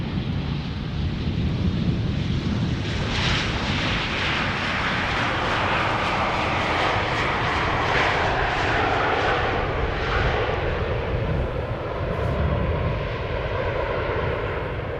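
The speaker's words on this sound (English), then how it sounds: "Arrivals on Polderbaan." An airliner arriving on the Polderbaan runway at Schiphol Airport, a loud, continuous jet roar with heavy low rumble and broadband wind noise that holds steady throughout.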